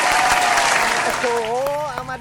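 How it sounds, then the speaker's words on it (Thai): A studio audience claps to welcome a young guest, dense applause at first that thins out as a voice begins speaking over the final second. "พวกเราครับปรบมือต้อนรับน้องเคส"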